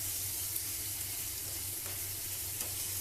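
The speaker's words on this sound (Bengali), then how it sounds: "মশলার যে তেলটা ছাড়ছে সেটার মধ্যেই শিমলা মির্চিটা আর গাজরটা দিয়ে একটু নাড়াচাড়া করে নেবো" Capsicum and carrots frying in spiced oil in a home kitchen pan, a continuous soft sizzle with low hissing texture and occasional faint clinks, steady and close with no voices.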